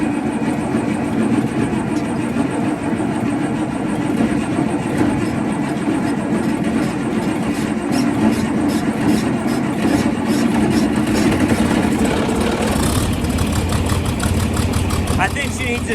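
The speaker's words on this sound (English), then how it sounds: "4020 shouldn't need any extra assistance starting today since it's like 60 degrees," A John Deere 4020 tractor engine on a mild 60-degree day runs loud and close at a steady rumbling idle with a rough, knocking texture, and a brief change in tone near the end.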